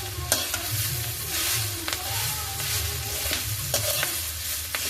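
Drumstick (moringa) leaves sauté in a pan, giving a continuous close sizzle with repeated spoon-scraping stirs and small clatters. No one speaks.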